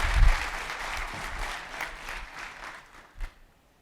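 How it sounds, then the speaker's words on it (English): Applause from a conference audience at a cybersecurity talk, a burst of clapping that starts strong and tapers off over a few seconds, with a few last scattered claps. "let's give him a round of applause"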